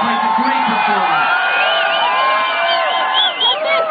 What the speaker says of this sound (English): Big round of applause for former 2-time world champion Tom Carroll, 2nd place